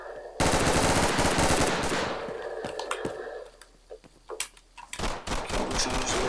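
Loud machine-gun fire in a realistic Roblox shooting game rattles in a dense opening burst, then breaks into scattered single shots and short volleys before another heavy burst near the end.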